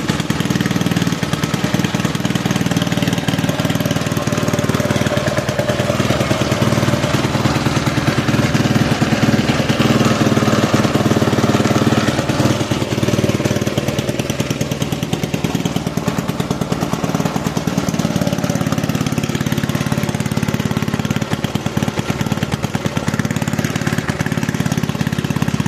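A Scott Bonnar edger engine runs on really old fuel and throws out smoke. It gives a loud, steady, close-up small-engine drone with a rough, rattling texture that holds throughout without pause.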